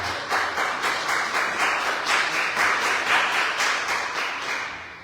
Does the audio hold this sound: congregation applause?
yes